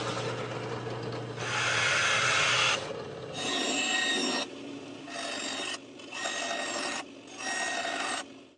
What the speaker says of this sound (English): I figured the most convenient way to cut the holes is with a circle cutter on the drill press.